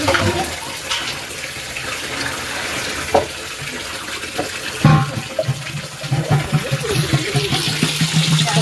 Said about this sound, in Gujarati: હું પાણી નાખું છું